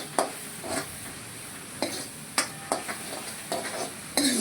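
A spoon stirs sauce for desi Chinese pasta in a pan, knocking sharply against the metal every second or so over a low steady sizzle, close and without talk.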